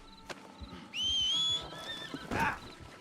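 A horse in Red Dead Redemption II, a single close whinny with a bright tonal call, framed by soft hoof clops and a brief snort at the end.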